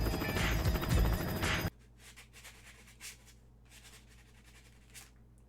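Sandpaper rubs a model ICAT tank trooper part in short, soft, repeated scratching strokes, close up and fairly quiet after a louder burst of noise at the start.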